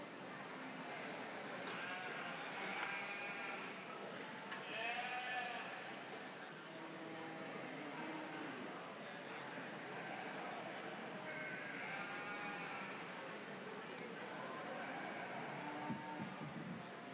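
Registered and commercial bred ewes bleating in a show ring at a state fair sheep show, with repeated wavering bleats from several animals at moderate distance amid arena crowd murmur and a faint voice.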